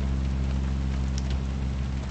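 Steady rain in American Truck Simulator, a dense hiss pattering on the truck during a thunderstorm, with a low engine rumble underneath, continuous and even throughout.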